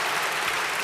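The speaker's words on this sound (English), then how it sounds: "I think that cheer was actually bigger than the cheer you all gave Keir" Large audience applauding and cheering at a live political discussion event, a dense steady wash of clapping throughout the short burst, fairly loud and without clear talk.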